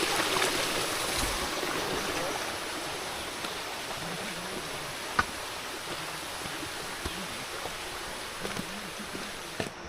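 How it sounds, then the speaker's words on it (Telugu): Monsoon waterfall on Netravati Peak, a steady broadband roar of rushing water filling the whole span at close range, with a few faint knocks. "సో ఇక్కడ ఫుల్ వాటర్ సౌండ్ వస్తూ ఉంది"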